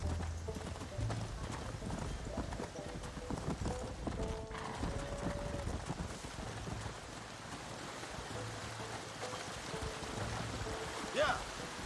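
Horses' hooves clip-clop steadily while cattle are herded in the video game Red Dead Redemption, a continuous trotting patter with a brief whinny, over a rain-like outdoor wash and occasional talk.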